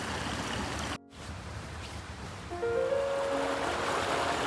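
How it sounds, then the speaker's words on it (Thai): Water rushes steadily at a partly frozen waterfall during a thaw on a winter hike in New York, with a brief dropout near the start and faint tonal hints later. "แต่ก็มีน้ำไหลอยู่บ้างนะคะ"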